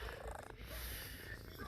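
A house cat purring close up, a soft low rumbling buzz with a brief dip partway through, quiet and steady over the short span.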